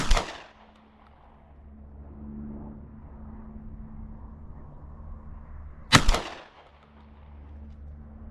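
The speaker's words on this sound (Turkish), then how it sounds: "Karşı yamaçta iki tane şişe var. Plastik. Şimdi onlara atış yapacağız." Two loud 12-gauge blasts from an Impala Plus Combo semi-automatic shotgun, fired outdoors at plastic bottles on a hillside about 30 metres away, one shot at the start and another roughly six seconds later, each with a short decaying echo and quiet outdoor ambience between.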